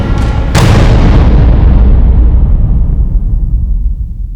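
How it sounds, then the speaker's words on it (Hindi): A sudden loud explosion blast hits, then a deep booming rumble decays over several seconds. "मैंने धमाके की आवाज सुनी"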